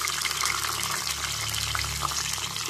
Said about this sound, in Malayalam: ഇതിനകത്തേക്ക് ഇരുമ്പൻപുളി ഒരു പിടി ചേർത്ത് കൊടുക്കാം.